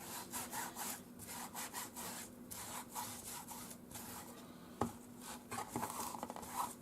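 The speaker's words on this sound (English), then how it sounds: "now I'm just smoothing it down and really pressing it" Glued paper being smoothed and pressed down by hand onto a recycled book cover, a quiet rhythmic rubbing and scraping in short strokes, close and faint.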